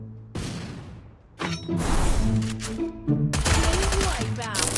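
Gunfire in a mobile battle-royale shooter, heard as bursts of rapid shots and impacts broken by short pauses, loud and close, with game effects mixed in.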